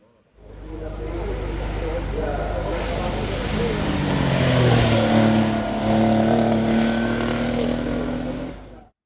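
Porsche 911 SC historic racing car at a French hill climb championship, engine roaring loud and close as it accelerates through the gears, rising and falling revs with a brief dip before climbing again.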